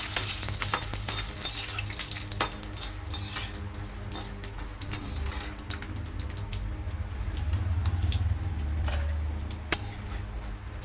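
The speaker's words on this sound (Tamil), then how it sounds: "முதல்ல மிளகாயை வறுத்துக்கலாம்." Dried red chillies fry in hot oil for a Tamil pirandai thuvaiyal, giving a steady, fairly quiet sizzle that swells slightly toward the end, with light ticking and clinking throughout and no talking.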